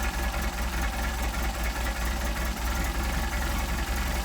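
A Mercedes 190SL engine with Solex carburetors idles steadily during mixture screw adjustment, a constant low throbbing rumble with a regular pulsing beat, close and fairly loud, with no voices.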